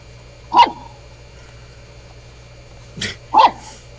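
A dog barks once, then after a pause gives two more quick barks in succession, fairly close and clear over a low background hum.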